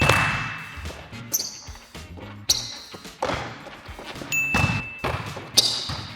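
Volleyball set with the hands during training, sharp slaps and thuds repeating roughly every second amid echoing indoor space, with brief squeaks between contacts.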